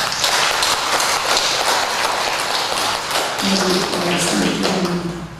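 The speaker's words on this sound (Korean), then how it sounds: "큰 박수 맞겠습니다" Congregation at a Sunday church service applauding trainees, a sustained loud wash of many hands clapping, with a voice speaking over the final seconds.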